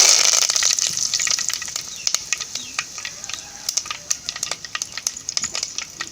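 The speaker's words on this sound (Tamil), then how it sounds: "கடுகு நல்லா பொரிஞ்சிருச்சு கருவேப்பிலை ஆட் பண்ணிக்கலாம்" Mustard seeds and chana dal crackling in hot oil, sharp scattered pops and spits bursting over a fading sizzle, dense at first and then more sparse and irregular, with no one speaking.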